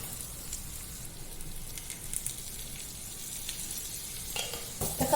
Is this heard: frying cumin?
yes